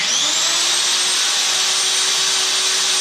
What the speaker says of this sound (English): we're just going to drill a pilot hole